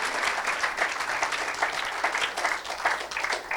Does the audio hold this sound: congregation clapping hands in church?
yes